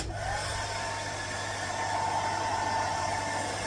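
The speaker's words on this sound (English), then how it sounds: "heat the wood up with a hair dryer" A steady, loud hair dryer heating wood, blowing continuously with a constant airy whoosh and low motor hum, no voices.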